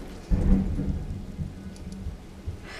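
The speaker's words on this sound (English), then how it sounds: "I don't know if you can hear the thunder" Thunder rumbles through a rainstorm in the Weeping Peninsula of Elden Ring, a low burst swelling early and then rolling on under steady rain, with fainter grumbles trailing off.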